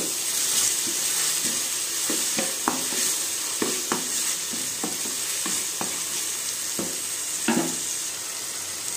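Raw prawns with turmeric frying in a hot pan, a steady bright sizzle broken by a dozen or so scraping knocks of a spoon as the mixture is stirred at an uneven pace, close and clear with no talking.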